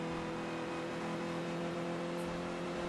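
A race car engine in a racing game runs with an odd, strained tone, a steady droning whine held at constant pitch throughout with no voices.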